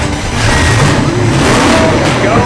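A Dodge Charger drag car's engine revs hard, a loud sustained roar launching for a wheelie, with crowd noise and cheering mixed underneath.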